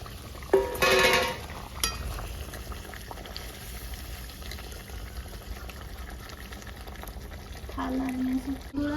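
Rohu fish pieces slipped one by one into bubbling gravy for a posto curry, a steady low boil with a burst of splashing sizzle early on and another near the end.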